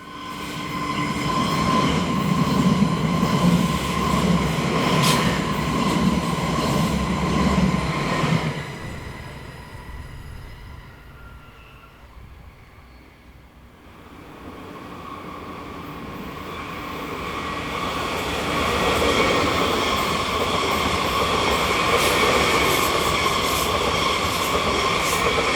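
Südostbahn unit 526105, a copper and black liveried train on the Swiss mainline, passes close by with a loud rushing roar and wheel hum, fades to a lull, then swells again as carriages rumble past.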